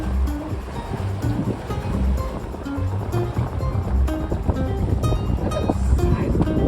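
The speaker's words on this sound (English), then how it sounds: "Look at the size of the waves." Waves slosh and churn on a jungle river on a windy day, with gusts of wind and a sailboat nearby, in a continuous close wash of water.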